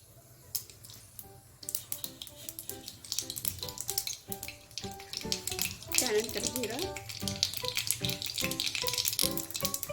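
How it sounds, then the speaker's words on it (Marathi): Mustard seeds sizzling in a spoonful of hot oil in a kadhai, a bright crackling and spattering that builds and stays busy, with some clattering and brief speech underneath. "मोहरी टाकून घेऊया"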